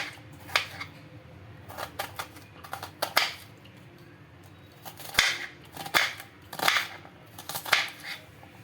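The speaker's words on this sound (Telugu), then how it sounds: "ఉల్లిపాయ అయితే కట్ చేసుకుంటున్నాను చిన్నగా కట్ చేసుకోవాలి" A knife chops onion into small pieces for tomato chutney: a close, quiet run of sharp, irregular taps on the board with short pauses between bursts, and no talking.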